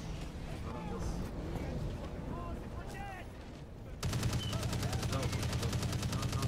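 Rapid automatic gunfire in a video game breaks out suddenly and keeps going as a loud, dense, steady rattle, with game voices and someone talking over the noise before and during it.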